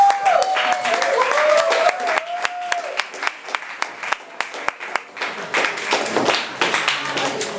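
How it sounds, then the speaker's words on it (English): An audience bursts into a big round of applause for a speaker, dense clapping at first over a brief whistle-like tone, then thinning into scattered individual claps and fading. "Big round of applause."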